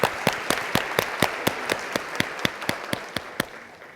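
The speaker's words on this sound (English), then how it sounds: "as they receive their awards, and we'll have another applause." An audience applauds award recipients at a memorial plenary with a dozen loud, evenly spaced claps, close and steady, fading slightly toward the end.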